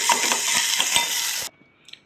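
Carrot, green peas, potato, small onion and fresh coconut frying together in a pan, a bright close sizzle with quick spatula scrapes and clinks that cuts off abruptly halfway, leaving near silence with a faint tap.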